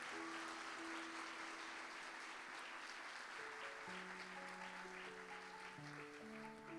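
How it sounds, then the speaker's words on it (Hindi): Congregation at a Sunday church sermon giving strong applause, a dense, continuous wash of clapping under sustained organ or keyboard tones, fairly faint and even throughout. "जोरदार तालियां खुदा के जलाल के लिए"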